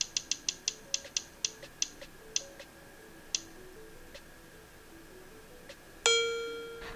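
A selection wheel spins with a rapid run of sharp plastic clicks that slow and spread out as it coasts to a stop, ending in a louder bright ring as it settles.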